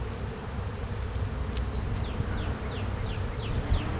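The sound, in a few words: honeybees buzzing around a hive being smoked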